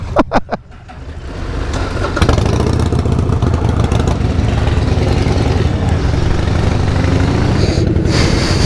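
A motorcycle engine sputters to life with a few sharp bursts, then settles into a loud, steady, throbbing exhaust rumble close by.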